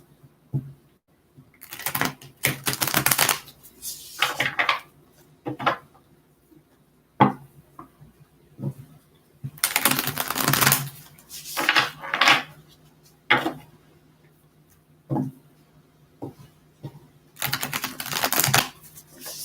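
Bursts of quick, crisp riffling and slapping as a deck of tarot cards is shuffled, repeated several times with short quiet pauses between.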